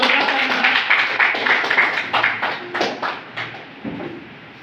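Audience applause at a business seminar, a moderate room of hands clapping that begins full and then thins into separate distinct claps fading toward the end.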